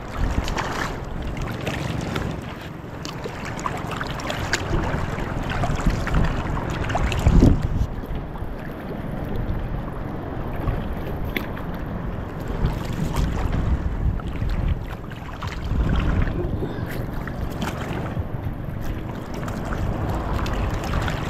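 A small wooden bangka is paddled across rough water, with continuous wind noise and sloshing waves. Faint oar strokes and hull knocks come through now and then, nearby and fairly loud, with no voices.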